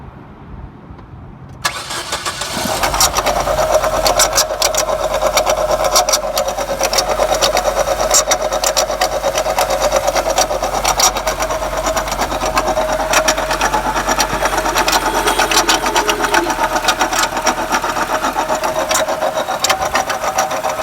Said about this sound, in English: When the car was running, power steering pump was moving back and forth.